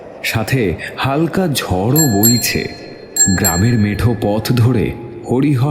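A bicycle bell rings in bright, repeated trills as a man cycles home along a village dirt path in light wind, sounding clearly between and under a narrator's continuous speech.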